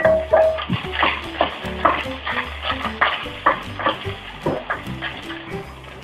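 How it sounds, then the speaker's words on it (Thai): Cooked rice for Thai shrimp-paste rice is stir-fried in a hot wok, with a soft sizzle under repeated scraping and clanking strokes of a spatula against the metal pan. "แล้วก็เอาข้าวของเราลงไปผัด"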